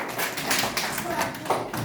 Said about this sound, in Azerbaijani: Alqışlar uşaqlar.